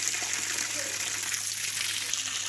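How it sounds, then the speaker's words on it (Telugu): Water splashing steadily onto garden plants during evening watering, a continuous close hiss and patter with no break. "నీళ్ళు పడుతున్నాను."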